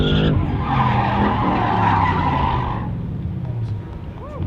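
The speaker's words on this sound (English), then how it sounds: "He pulled a 360, if you couldn't tell" A race car skids through a 360-degree spin at the Thermal racetrack, tires squealing loudly and steadily for about three seconds with engine roar underneath before fading as the car settles.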